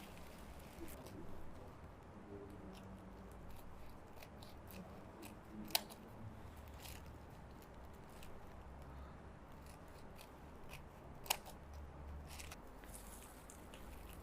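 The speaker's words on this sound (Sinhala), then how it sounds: "දැන් අපි රැලි ටික කපන්න පටන් ගමු." Scissors snip through folded paper to cut decorative ruffles for a Vesak craft, a steady run of soft crisp cuts with two sharper clicks, close and fairly quiet against light room noise.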